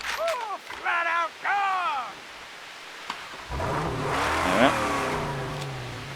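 A car engine in the Mad Max video game, freshly upgraded, revs into a deep, throaty rumble that builds and swells over the second half, after a stretch of speech-like vocal sounds.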